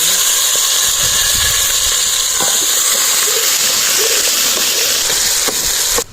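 Tomatoes and green chilies hit hot oil with whole spices in a village pot for chana pulao, a loud, steady hiss and sizzle that holds throughout with a few faint clinks.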